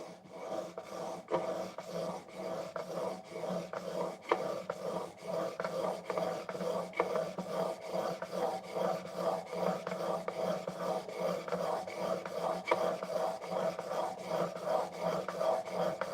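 Blade stroked back and forth across a 3,000 grit sharpening stone, a soft rhythmic rasping scrape repeating steadily, close and quiet, with no talking.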